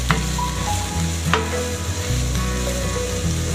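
Eggplant and onion sizzle steadily in a hot frying pan while a wooden spoon stirs and scrapes through them, producing a loud, continuous hiss with a few sharp clicks.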